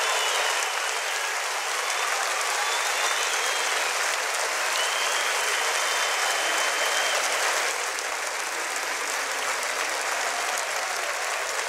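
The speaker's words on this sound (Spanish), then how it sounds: "Un aplauso grande." A large concert crowd applauds at a 2007 show, a continuous wash of clapping and crowd noise sustained throughout.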